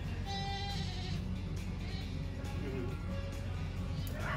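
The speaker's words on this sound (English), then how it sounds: "Those goats are calling me" Goats bleat at a commercial rabbitry, with several wavering cries rising over a loud, steady background hum.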